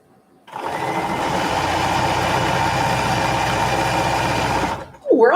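A sewing machine stitches a charm-square quilt in one continuous, even mechanical whir, loud and close. It starts abruptly after a brief quiet and cuts off near the end.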